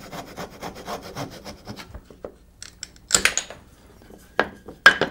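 A hand saw works through a wooden tenon in a woodworking shop, giving a run of quick rasping strokes followed by pauses, scrapes and a few sharp knocks, close and unaccompanied by speech.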